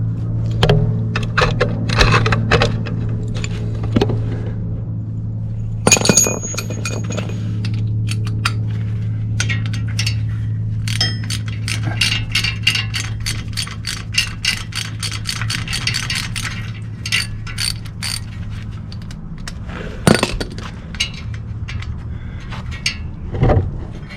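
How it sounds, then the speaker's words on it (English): Removing an ABS sensor with a T30 socket on a Ford F350/F250 4x4 truck hub: steady low background hum under irregular metallic clicks, taps and rattles from hand tools, with a run of quick ratchet clicks, all close. "For the ABS sensor, I'm gonna use a T30 socket."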